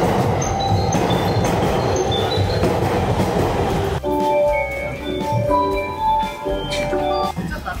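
A Chuo Line commuter train in Tokyo rumbles and rattles along the rails, steady and fairly loud, then its tone drops as it slows, with faint squeals from the wheels.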